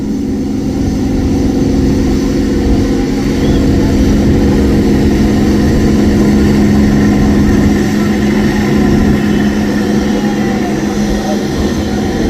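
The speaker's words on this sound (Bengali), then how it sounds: "দেখতে পাচ্ছেন প্রচুর যাত্রী নিয়ে ছেড়ে যাচ্ছে দোয়েল পাখি 1 লঞ্চ" Loud steady drone of the engine on an overloaded passenger river launch leaving Dhaka, listing to one side, a constant low hum and rumble throughout with no break.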